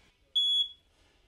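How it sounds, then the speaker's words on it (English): A Supreme Aire RV smoke detector gives a single short, piercing high-pitched test beep, about a quarter second long, loud and close in an otherwise quiet room. "as long as we hear the tone, that means that the smoke detector is activated and working"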